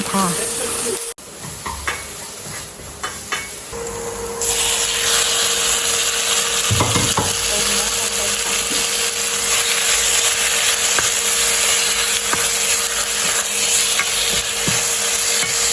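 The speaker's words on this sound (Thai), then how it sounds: "ผัดใส่น้ำมันนิดนึงนะคะ แล้วก็เอาเนื้อลงไปลวนอีกนะคะทุกคน" Beef stir-fried with green curry paste in a little oil for Thai green curry, a loud steady sizzle with scraping and stirring clatter, preceded by a brief knock and quieter rustling.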